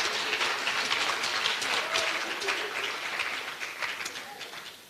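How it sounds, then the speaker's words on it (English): A large crowd at a graduation ceremony for the Class of 2024 applauds in a broad, even roar of clapping that holds steady and then begins to taper off toward the end. "Round of applause, please."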